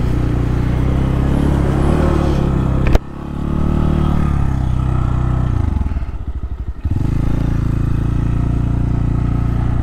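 A motorbike fitted with a 30mm Nibbi carburetor runs loud and close, its engine holding a steady drone that cuts out abruptly, then restarts, sputtering unevenly before settling back into a strong idle.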